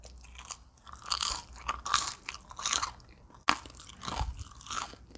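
Crunching bites and chewing of a crispy fried Chinese donut made from pizza dough, several close, crackly crunches in irregular bursts with a sharp snap midway, no speech.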